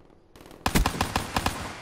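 Rapid gunfire in Black Ops 3 on the Metro map, a quiet lead-in followed by a close, loud burst of repeated shots in an uneven rhythm, with no voices.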